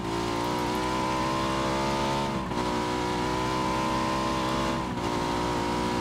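A truck's engine in a battle royale video game runs with a loud, continuous droning tone, holding steady with two brief dips, no talk over it.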